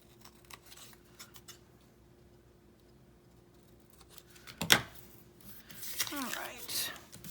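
Scissors cut out a paper tag near the end, with close, crisp snips and rustling paper after a quiet stretch.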